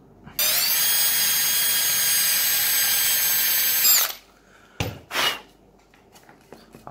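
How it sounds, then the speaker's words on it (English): Power drill boring a hole through a printed circuit board, one continuous high whine lasting about four seconds, then silence broken by a couple of short clunks and rustles close by. "I'm just going to drill 2 holes in the PCB"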